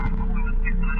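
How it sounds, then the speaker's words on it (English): Steady electrical humming over a telephone line loudspeaker in a 1940s radio drama, a loud continuous buzz with harmonic overtones filling the whole moment. "All I hear is a humming."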